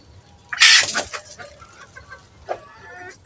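Hens clucking close by at feeding time, a loud squawk followed by scattered softer clucks and pecking sounds.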